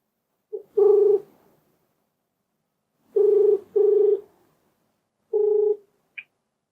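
A phone call being placed, with a brief dial tone followed by four evenly spaced ringback tones separated by silence, and a short high beep at the end.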